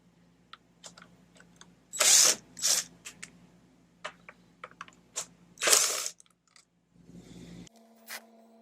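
A T20 Torx driver ratchets and clicks as screws come out of the cylinder cover of a Ryobi RY09056 leaf blower, with close, sharp clicking runs and a few louder scraping bursts, no talk.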